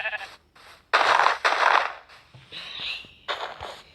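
Sheep in a video game bleat in several loud, close bursts, some short and some drawn out, separated by brief gaps.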